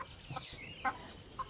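Kadaknath chickens give a few short, soft clucks in sparse bursts over a faint noisy background, with no talk.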